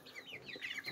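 Four-week-old white fowl chickens on a Jamaican farm cluck and peep softly while eating water grass from a hand, giving several quick, faint, close calls one after another.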